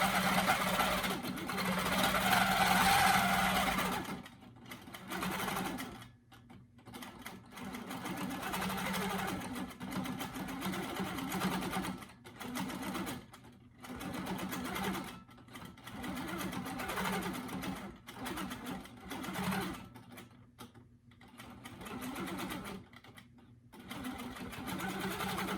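A longarm quilting machine free motion quilting runs in a steady, fast mechanical chatter, easing off and starting again in uneven bursts across the stretch, with faint background noise between runs.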